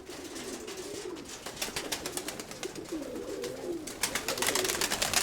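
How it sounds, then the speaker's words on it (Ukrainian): Pigeons coo outdoors after rain as they are fed, with soft, repeated, rolling calls close by over a light background of fluttering and scuffling. "закінчився дощик, підкинув голубів"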